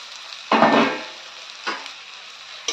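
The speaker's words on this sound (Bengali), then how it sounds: "এইবার এর মধ্যে দিয়ে দেব ভেজে রাখা আলুগুলোকে" Pre-fried potatoes are tipped into a hot pan of frying garlic and onion, giving a sudden burst of sizzle followed by a quieter steady hiss and a couple of short stirring scrapes.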